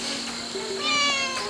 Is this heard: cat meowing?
yes